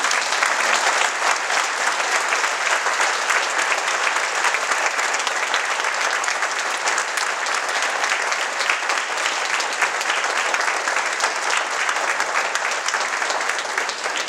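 Sustained audience applause at a Holocaust remembrance event, a thick, continuous roar of many hands clapping at an even level.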